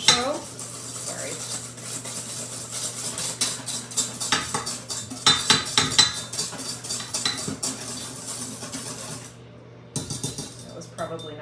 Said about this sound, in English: I'm using one of our whisking bowls and a whisk, or a mixing bowl and a whisk